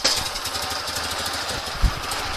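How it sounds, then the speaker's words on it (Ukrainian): A small engine with a K-37 carburetor running steadily with a rough, buzzing drone, close and loud, with one brief thump partway through. "Далі запускаємо двигун"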